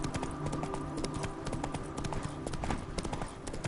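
Horse hooves clip-clop steadily in Witcher 3, a rapid even rhythm of close, distinct hoof strikes over layered game music and ambience, with no voices.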